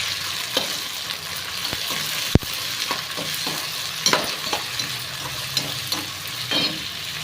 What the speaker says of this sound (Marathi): लसणाची पेस्ट टाकायची।